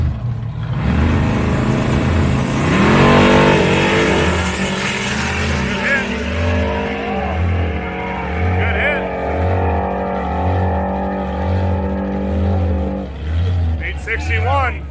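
A Buick drag race car makes a pass down a drag strip, its engine roaring loudly and steadily with a throbbing rhythm, while someone talks over the noise throughout.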